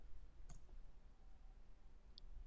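Two faint, isolated mouse clicks on a computer while filtering data in an Excel spreadsheet, sharp and brief over a low steady background hum.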